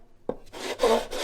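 The wooden side kerfing of a 1962 Harmony guitar is sanded by hand, giving a brief scrape followed by a few short, close rasping strokes against the wood.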